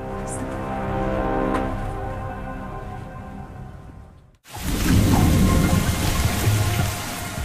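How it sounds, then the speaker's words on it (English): Heavy rain pours steadily over a small airport in Dubrovnik, Croatia, a dense hiss that breaks briefly before returning louder, with low rumbling beneath. "A heavy rain soaks a small airport in Dubrovnik, Croatia."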